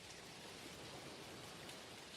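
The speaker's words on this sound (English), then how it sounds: "even though it's raining right now, it runs pretty much the same as when it's sunny" Steady rain falls in the video game Dinkum, a soft, even hiss of drops that stays constant without pauses and sounds very faint.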